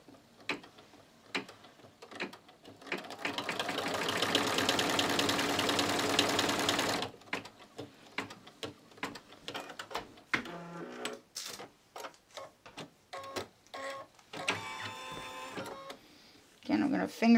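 An embroidery machine stitches a mug rug in the hoop with a dense, rapid mechanical whirring burst lasting several seconds. A person talks close by before and after it, among scattered clicks and handling noises.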